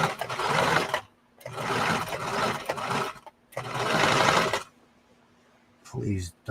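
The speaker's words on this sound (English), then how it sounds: "I'm trying not to sew the leg into itself." A sewing machine stitches thick denim for wide-leg jeans, running in three long bursts with short pauses, then falling quiet while a voice talks briefly near the end.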